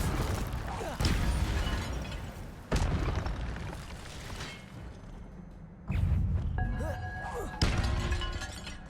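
Incendio fire spells are cast in the Hogwarts Legacy video game, with several heavy booming blasts and crashes. Each hit lands suddenly and loud, then fades into rumbling debris, with voices mixed in.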